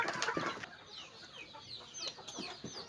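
Chickens cluck and call in a coop of Thai backyard chickens being caught, with scattered short clucks and squawks at moderate distance over a steady background hum, no talk.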